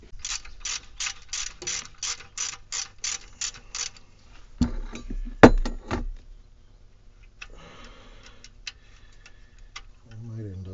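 Ratchet wrench clicking in quick regular bursts as an 11/16 wrench works transmission bolts loose on a 1988 GMC Sierra, followed by clanks of metal and scraping, close and moderately loud with no talk.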